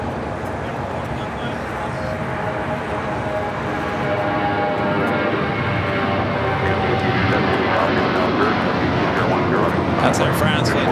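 An Air France airliner, flight 21, at LAX, its engines giving a continuous broad roar that swells slightly partway through, with faint chatter in the background.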